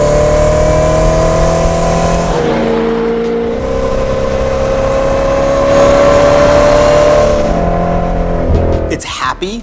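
Lotec C1000 with a straight-cut 5-speed transmission accelerates hard, its engine note climbing steadily through the gears with a brief dip at each shift, loud and close, ending in a few sharp pops.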